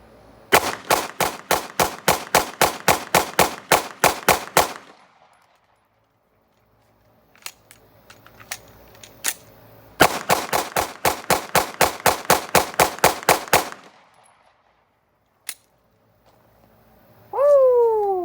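EDC-style handguns fired in two rapid strings of roughly a dozen loud, sharp shots each, with a few scattered single shots in the quiet stretch between and a brief voice at the very end.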